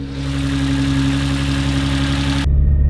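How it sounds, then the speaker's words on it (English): Nissan R35 GTR engine running right after a cold start, a loud, close, steady mechanical drone with a sudden shift in tone near the end and no talk. "We're still tuning in the cold start."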